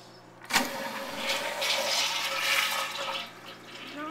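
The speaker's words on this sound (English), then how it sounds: "Let's see if it'll flush." A 2005 American Standard Cadet pressure-assist toilet flushes with a sharp pneumatic bang, then a loud, forceful rush of water that roars for about three seconds before tapering off; no talking.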